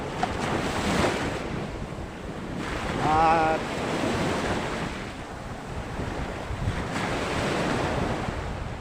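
Strong wind buffets the microphone while sea waves surge and wash continuously on the coast of Burayas Island; a brief voice is heard amid the roar.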